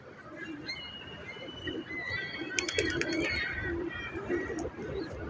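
Pigeons coo softly and repeatedly amid a busy flock being fed in Canada, with fluttering wings and scattered bird calls nearby.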